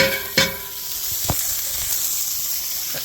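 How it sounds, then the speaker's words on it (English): Chopped bacon sizzles in a hot cast iron pan, a steady broadband crackle with a couple of brief sharp pops and clatters early on, settling into an even hiss with no talking. "Let that sizzle down a little bit"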